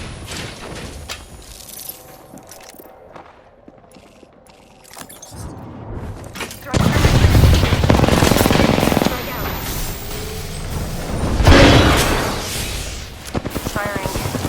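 Gunfire in Apex Legends, quiet at first, then a loud sustained stretch of rapid shots and blasts with a burst of rapid cracks toward the end.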